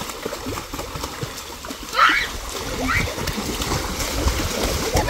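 Water splashes and sloshes in a swimming pool during summer play, with a few distinct splashes and gurgles over a busy background while people talk and call out.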